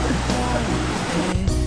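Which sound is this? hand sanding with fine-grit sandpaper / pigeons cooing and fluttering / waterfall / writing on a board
waterfall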